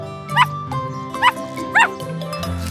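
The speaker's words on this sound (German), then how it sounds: "Das Hündchen bellt ganz laut." A cartoon puppy yips three times in quick, high-pitched barks over a steady background hum.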